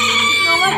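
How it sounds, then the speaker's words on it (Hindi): Backyard chickens and roosters cluck and crow loudly and close up throughout, a dense layered clamor of several birds with no talking. "और वो दोनों भी जो है ना मुर्गे हैं, और 2 वो मुर्गे हैं, और 1 ये हमारा रांझा"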